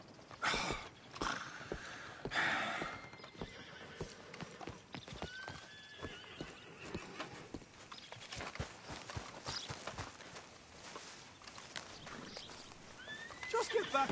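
Horse hooves clip-clop in Red Dead Redemption II, with neighs and whinnies breaking in over a steady walking rhythm of hoof steps, while voices talk over the game sounds.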